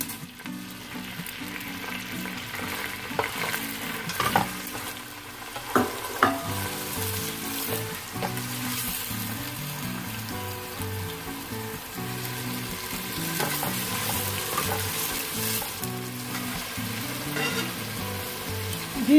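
Onion frying in oil in a pot for a vegetable stew, a continuous close sizzle with regular scraping and stirring strokes throughout and faint background sounds underneath.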